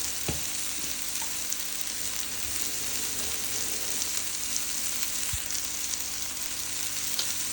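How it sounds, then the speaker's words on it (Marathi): Tomato being sautéed in a pan for masala vegetable Maggi, a soft, steady sizzle with a few faint stirring clicks and knocks, no speech. "टमाटो पण आपण परतून घेऊ"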